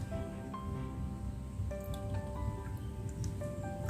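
Homemade fermented liquid fertilizer is scooped from a container, giving soft repeated drips, splashes and wet trickles, quiet and close over a steady background hum, with no talking.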